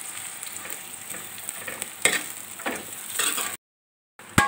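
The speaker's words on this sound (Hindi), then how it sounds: "ये प्याज फ्राई करेंगे, कच्ची पक्की प्याज फ्राई करेंगे" Onions fry and get stirred in a pan for a whole-spice keema, a close, even sizzle with spatula scrapes, then a sudden cut to near silence and one brief clack at the end.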